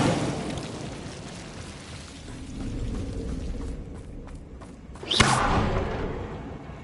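A fire spell, Incendio, cast in the video game Hogwarts Legacy bursts with a sharp whooshing flare near the end, following a low rumbling, crackling swell of game noise.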